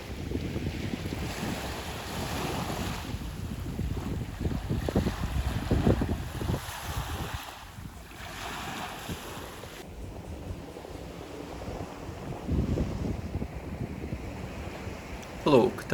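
Waves and wind along the Baltic beach at Liepāja, a steady broadband wash with surf rushes and gusty microphone wind noise, continuous and fairly loud throughout.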